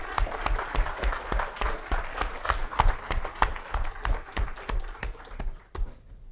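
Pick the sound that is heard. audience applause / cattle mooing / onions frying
audience applause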